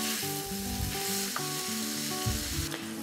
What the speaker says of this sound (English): I need to cook this until the meat browns on all surfaces